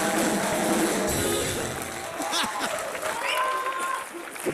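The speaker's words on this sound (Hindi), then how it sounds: "ताली बजा रहे थे कि कुछ मल रहे थे?" Studio audience at a Hindi comedy talk show clapping in a dense, steady wash, with a voice talking over it and some laughter-like murmur mixed in.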